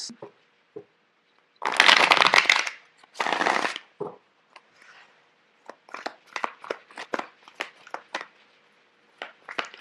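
Tarot cards are handled and shuffled in close, crisp bursts: two long riffling shuffles early on, then a string of quick snaps and flicks as single cards are drawn and laid down.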